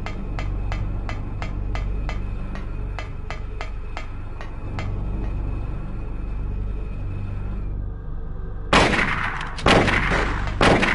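A rapid series of sharp, evenly spaced gunshots in the PS1 game Silent Hill, during the fight against Cybil, over a low rumbling background, then a pause and a few louder, harsher blasts near the end.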